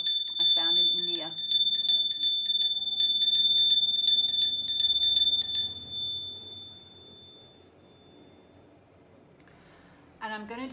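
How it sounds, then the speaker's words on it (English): A bell from India rings with bright, sustained metallic tones struck repeatedly at first, then left to ring out and fade slowly into near silence before another strike near the end. "It's a beautiful bell I found in India."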